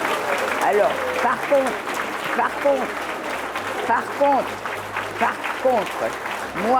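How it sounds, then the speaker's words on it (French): Applause for teachers from a studio audience, steady and fairly loud clapping throughout, with a person talking over it. "applaudissez vos professeurs"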